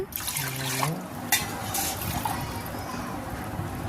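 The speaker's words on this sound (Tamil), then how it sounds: "6 டம்ளர் கரும்பு பால், சுகர் கேன் ஜூஸு அதை ஊற்ற போகிறோம்ப்பா" Sugarcane juice poured from a tumbler into a cooking pot for traditional sugarcane pongal, a brief liquid splash and gurgle near the start followed by faint kitchen clatter and soft background noise.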